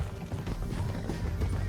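Horse hooves clip-clop at a steady trot in the Western video game Red Dead Redemption 2. The brief, close, rhythmic beats sound over low rumbling game ambience.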